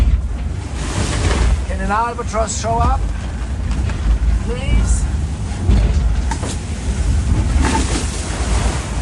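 Ocean waves, wind and spray rush around a racing sailing yacht near Cape Horn, a loud continuous roar with gusting wind noise and surging swells, while someone speaks briefly over it.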